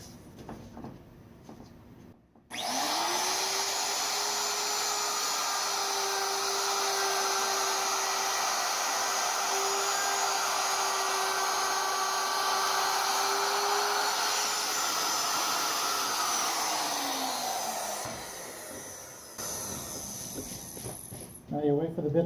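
A router cuts a dado slot with a loud, steady high whine that starts abruptly and holds for about fifteen seconds, then winds down as the bit slows.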